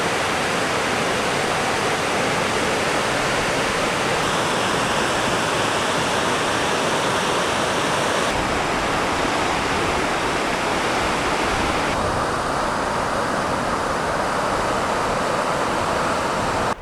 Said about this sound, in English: Coming up to my first major stream crossing.